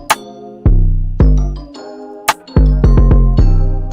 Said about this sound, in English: If you want to, you can layer another sound like a bell or triangle, this kind of tinny, trippy sounding hi-hat.